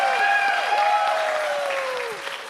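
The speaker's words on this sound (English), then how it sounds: "One huge more round of applause for our musical direction and ragtime player, John." An audience applauds at a Purim spiel after a ragtime player is introduced, the steady clapping running under a sustained musical tone that slowly fades near the end.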